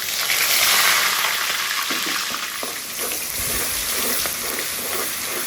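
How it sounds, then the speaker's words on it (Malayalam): Loud, steady sizzling and crackling of mustard seeds and garlic paste frying in hot oil, with occasional stirring scrapes and small pops throughout. "നമ്മുടെ കടുക് പൊട്ടി വന്നിട്ടുണ്ട് കേട്ടോ"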